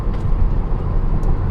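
A car engine droning low and loud from inside the cabin while downshifting into third gear, a steady rumble with a faint whine and a couple of small clicks.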